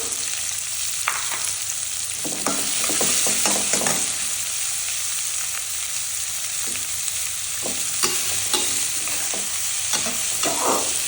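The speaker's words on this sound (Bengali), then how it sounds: "এবার পেঁয়াজটাকে বাদামি করে ভেজে নিব" Chopped onions fry in oil with bay leaf and cardamom for mung dal bhuna: a continuous close sizzle broken by irregular spatula scrapes and stirs, with no voices.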